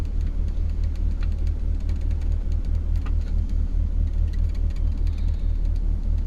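A 1966 Ford Galaxie 500 convertible idles steadily on a cold day, heard from inside the cabin with the heater running: a constant low engine rumble with no change in pace.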